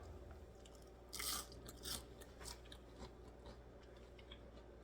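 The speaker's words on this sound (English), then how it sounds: "Y'all hear that crunch? That's what double frying your potatoes do." Close crunching of double-fried potatoes, a few crisp bursts over a quiet background hum, faint and without talk.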